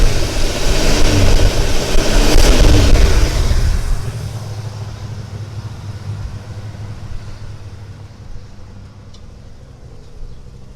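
A 1977 Century's engine, fitted with an Edelbrock 750 CFM carburetor and freshly timed, idles with a steady rumble that swells briefly near the start, then settles to a quieter, even idle.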